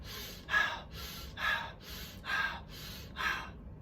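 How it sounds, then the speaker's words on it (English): A person demonstrates hyperventilation with four loud, rapid breaths in a steady rhythm, each a sharp gasping inhale, close to the microphone with no talking. "So when you start to hyperventilate"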